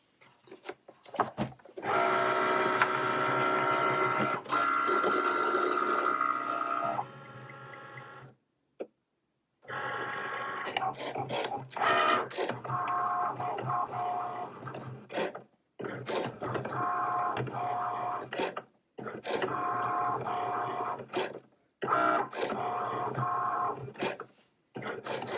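A Cricut machine cuts heat transfer vinyl, giving off bursts of mechanical whirring and ticking carriage movement. The bursts are separated by short pauses and silent gaps, and the sound is moderately close with no talking.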